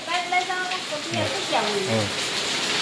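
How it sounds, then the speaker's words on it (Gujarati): Rain falls as a steady, soft hiss beneath close voices of people chatting, the downpour staying in the background throughout. "જો વરસાદ આવ્યો આજ"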